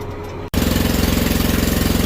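A tractor engine runs while pulling an ExactEmerge planter during planting, a loud, steady, rapid throbbing heard from inside the cab that cuts in abruptly after a short quieter stretch.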